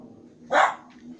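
A single sharp dog bark, fairly close, rising out of a quiet low background hum and fading quickly, as the dog reacts to a nearby motorbike.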